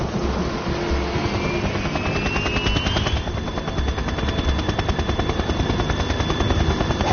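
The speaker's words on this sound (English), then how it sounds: "Russian choppers." Russian military helicopters in the Metal Gear Solid 2 video game create a dense, loud, continuous rotor chop with a rising whine and constant rattling, filling the whole scene.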